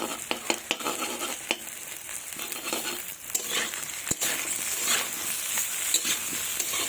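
Nigella seeds crackle in hot oil for a rohu fish curry, with a dense sizzle and frequent scraping and clinking as a spatula stirs the pan, close and without speech.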